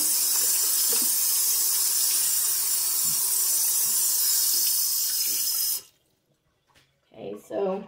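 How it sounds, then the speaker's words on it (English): Water is poured off a container of sand in a steady, hissing stream for several seconds, then stops abruptly and a voice speaks briefly. "pour off the water, and it collects the sand up"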